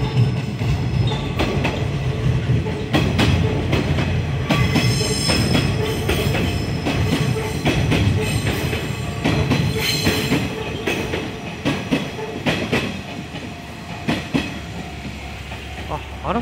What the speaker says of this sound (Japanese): また西鉄からの列車が来ましたね